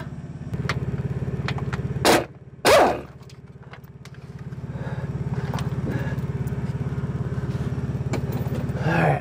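A pneumatic impact wrench driven by an air compressor rattles out the top transmission bolts on a Cummins ISX15 truck engine. Loud, close, sustained hammering bursts are broken by short pauses.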